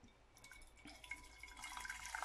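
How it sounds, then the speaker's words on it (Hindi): Hot water from a kettle being poured into a pan to make kahwa tea, a soft, continuous splashing stream that builds slightly as the pour goes on. "उसके अंदर मैं पानी ऐड करूँगी"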